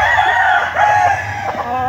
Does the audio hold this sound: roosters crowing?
yes